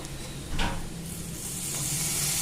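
Chopped garlic sizzles in hot butter in a pan, a steady soft hiss with a brief stirring scrape near the start, close and alone.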